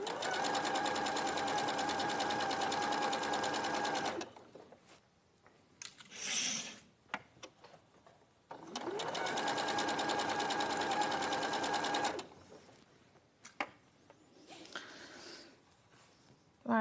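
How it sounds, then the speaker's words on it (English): Sewing machine running a quarter-inch seam through boucle fabric in two steady, loud runs of about four seconds each, with brief fabric handling and quiet rustles in the pauses. "I'm literally sewing with a 1/4 inch seam allowance here"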